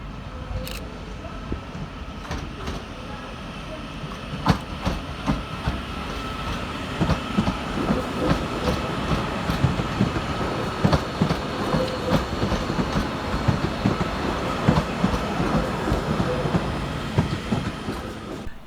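A Northern class 331 electric train rolls into Manchester Piccadilly at rush hour, with rhythmic clickety-clack of wheels over rail joints, faint squeals and a steady rumble building slightly as it draws in, heard from the platform without talk.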